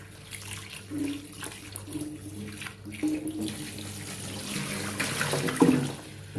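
Tap water runs into a kitchen sink to rinse soaked food before cooking, a steady splashing flow with small clatters and bumps, close by and fairly loud, with no talking.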